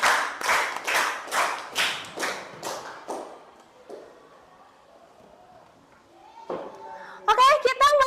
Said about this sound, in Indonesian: beri tepuk tangan untuk Guntur